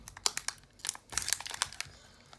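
Crinkly plastic wrapper of a Pokémon Steam Siege booster pack being handled and pulled at, with several sharp, close crinkles and crackles in quick bursts.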